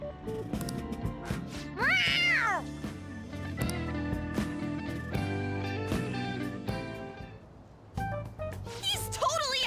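A cat meows in Persona 5 Royal, a rising-and-falling cry that stands out near the middle over a busy, continuous game music track.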